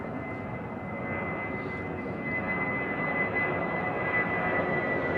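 A KC-135 military tanker flying overhead near London Heathrow produces a continuous jet-engine roar that swells slightly louder as it passes, with a faint tonal whine above it.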